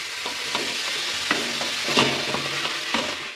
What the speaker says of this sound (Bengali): এবার এটাকে কষিয়ে নিতে হবে একটু মশলার সাথে